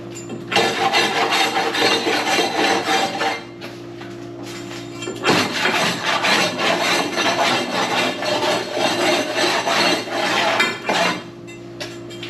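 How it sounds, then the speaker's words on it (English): A metal tool scrapes the sides of the air channels inside an outdoor wood boiler in steady, close grating strokes over a constant low mechanical hum, with a brief lull partway through. "I'm scraping the sides where the air channels are for the top air"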